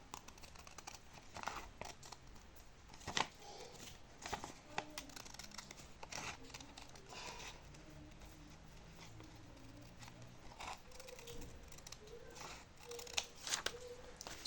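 Fabric scissors snip repeatedly while cutting a women's slipper pattern and trimming a strap, a quiet steady series of crisp crunching cuts with faint crinkling close by.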